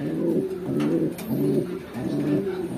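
Breeder pigeons feed their young birds, with low, throaty cooing pulses repeating in a steady rhythm close by, about four rounds of soft cooing.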